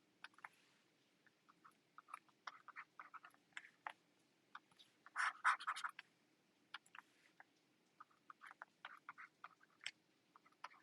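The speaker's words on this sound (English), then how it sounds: "Maybe let me just write it here." Handwriting on a board during a linear regression lecture: faint, scattered scratchy taps and short strokes come in irregular bursts, with a denser flurry of marks midway over quiet room tone.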